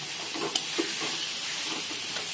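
Chicken kosha frying in oil in a pan, a steady hissing sizzle with a couple of soft stirring knocks, close and even, with no speech.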